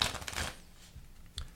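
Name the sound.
shuffling a deck of playing cards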